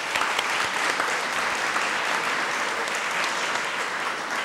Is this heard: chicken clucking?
no